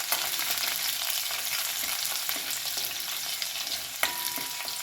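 Garlic frying gently over low heat in oil for lasuni methi bhaji, a constant close sizzle with faint scraping stirs and one sharp clink near the end, no one speaking.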